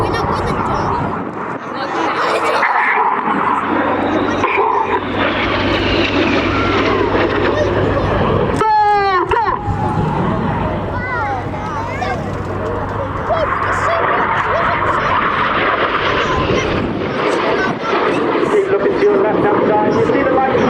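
Red Arrows jets fly an aerobatic display at the RAF Cosford Airshow, a loud continuous roar that swells and sweeps past from a distance, heard under an announcer's ongoing public-address commentary with crowd noise around.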